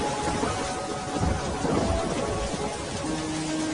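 Heavy rain pours steadily while low thunder rumbles underneath, with no voices.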